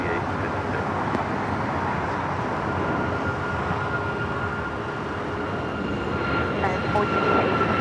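A fixed-wing airliner taking off at LAX airport, its engines a steady, loud broadband roar that holds throughout, with radio voices from air traffic control heard faintly beneath.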